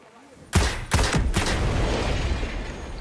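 Gunfire in a war video game: a quick burst of three or four loud shots with a booming tail that rings out and lingers as a rumble afterward, starting after a short quiet moment.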